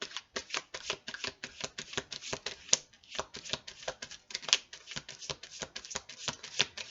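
Oracle cards for a love reading being shuffled: a steady run of crisp riffling bursts, close and moderately loud, repeating in quick rhythm without pause.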